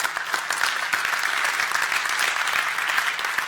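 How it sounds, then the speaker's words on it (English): An audience breaks into a steady round of applause at a public event, many hands clapping densely and evenly from start to finish with no voices standing out. "maybe a round of applause"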